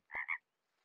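A single short two-part frog croak from the video game Super Auto Pets, clean and alone.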